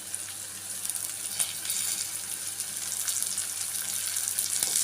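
Curry leaves crackle and sizzle in hot oil for an ivy gourd and tomato curry, a steady bright frying hiss with small pops, close and continuous.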